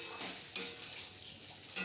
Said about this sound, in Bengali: সব কিছু একসাথে আবারও ভালো করে মিশিয়ে নিচ্ছি নাড়াচাড়া করে।